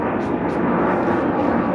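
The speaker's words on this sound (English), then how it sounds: "Sorry about the plane flying over" A plane flying overhead during a car wash of a Nissan Stagea, heard as a steady broadband roar that stays loud and unbroken throughout, with no talking.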